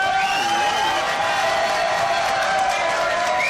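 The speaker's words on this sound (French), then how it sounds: "Applaudissements, eh oui" Studio audience at a live French TV variety show, sustained dense applause with cheering mixed in, loud and continuous, while sustained tonal music plays underneath.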